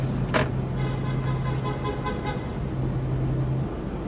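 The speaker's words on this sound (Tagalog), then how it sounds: "Ang lala ng traffic dito." Heavy congested road traffic drones steadily nearby, with a low vehicle hum, a brief sharp sound near the start and faint passing engine noise, no voices.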